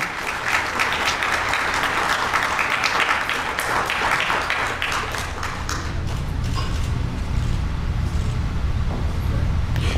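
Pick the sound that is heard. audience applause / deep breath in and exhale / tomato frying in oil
audience applause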